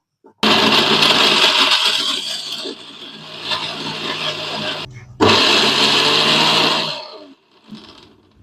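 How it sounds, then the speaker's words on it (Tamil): A mixer grinder grinds coconut for a kara kuzhambu paste, a loud, steady motor whir that runs for about four seconds, stops briefly, then starts again for another stretch before cutting out. "இதை ஃபஸ்ட்டு குறப்பாக அரைச்சிக்கணும்"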